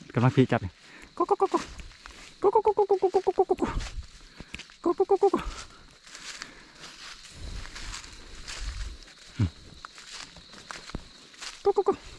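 A voice mimics chicken clucking in rapid rhythmic bursts of short clucks, with pauses, rustling and soft footsteps between them.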